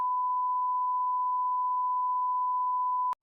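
A steady, loud censor beep holds one pure tone for about three seconds, then cuts off with a brief click.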